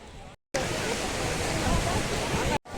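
Sea waves at Pondicherry beach make a steady, close roar of surf that fills the clip, broken by two short silent gaps.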